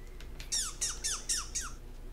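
A chirping call in a squirrel video game, five quick squawky chirps in an even rhythm, each with a sharp bright attack and a falling tail, loud and close over a low background hum.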